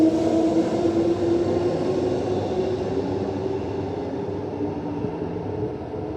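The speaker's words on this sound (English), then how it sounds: "a train terminating at Cannington comes in" Train pulling in to terminate at Cannington station on the reopened Armadale line, a steady low rumble and rolling hum that slowly fades as it slows, with no voices.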